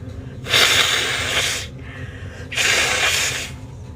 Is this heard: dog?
no